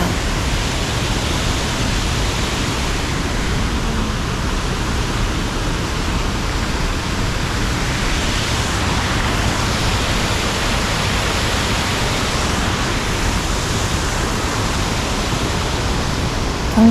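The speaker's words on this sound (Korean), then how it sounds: "지나가는데 옆에 폭포 소리가 들려서" Waterfall beside a bridge in Kurokawa Onsen hot spring village, Japan, roaring as a steady, loud broadband rush that holds unbroken throughout with no voices.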